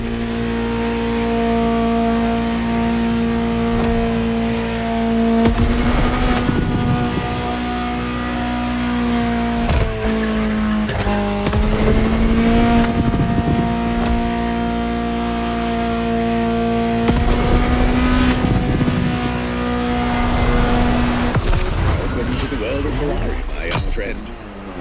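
A Ferrari supercar engine in The Crew Motorfest racing game holds a steady mid-pitched drone, rising and falling through gear shifts with bursts of revving, heard continuously with a speaking voice over it.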